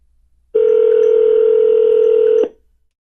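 A single steady electronic tone from a Pioneer DEH-X6900BT car stereo during Bluetooth phone dialing, loud and clean, holding for about two seconds before cutting off.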